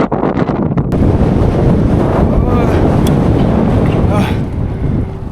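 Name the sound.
massive wind gust on a bridge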